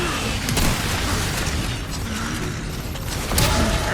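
Shotgun blasts boom in Resident Evil 4 (2023) against a tough enemy, with two heavy shots about three seconds apart over a loud, continuous rumbling game soundscape.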